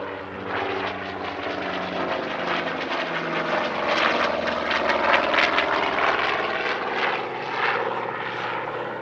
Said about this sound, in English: the turn of the Skyraider, a remarkable post-war carrier-based aircraft which first flew in